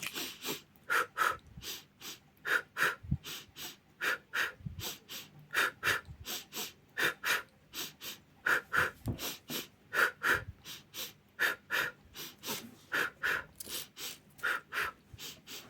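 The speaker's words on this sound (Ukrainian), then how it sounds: "Два рази вдох, два рази видих." Children in a kindergarten group do a breathing exercise, with steady rhythmic in-and-out breaths repeating in quick pairs, close and clear, with no talking.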